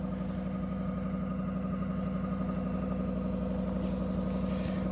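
A 2022 Ram 1500 pickup with the 5.7 V8 runs at a steady, elevated idle after a cold start at -24°C, not plugged in overnight and unused for a week, a continuous close rumble with no speech.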